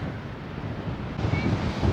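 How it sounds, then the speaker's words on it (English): Ocean waves on a beach in Iceland roar in a dense, steady wash, loud and close, with wind buffeting the microphone and a slight swell in the last second. "listening to the sound of the ocean"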